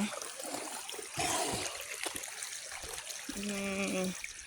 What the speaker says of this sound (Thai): สายน้ำไหลออกมา